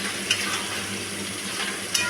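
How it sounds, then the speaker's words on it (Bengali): Chicken curry being stirred with garam masala in a pan, giving a steady soft sizzle with a couple of faint scraping clinks near the start and end; no voices. "গরম মশলার গুঁড়ো দিয়ে দিচ্ছি আমি, দিয়ে ভালো করে মাংসটাকে মিশিয়ে নিচ্ছি"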